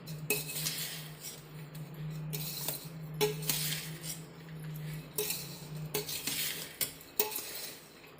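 A spoon scrapes and clinks in a large pot as gujiya filling is mixed with sugar, giving repeated metallic strokes over a low steady hum, with no voices.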